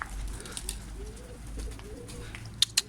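Soft, low cooing of a Miro Akbaş pigeon in the background amid faint outdoor noise, with a couple of sharp clicks near the end.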